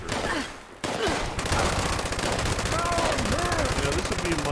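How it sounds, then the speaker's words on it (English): A light machine gun firing in a video game, dense rapid automatic bursts sustained loudly throughout after a brief gap. "Light machine gun."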